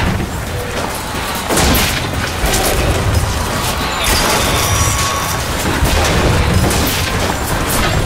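Rocket explosions rumble in a video game, a dense, loud barrage of booming blasts and crashing debris that swells after a brief lull and carries on without letup.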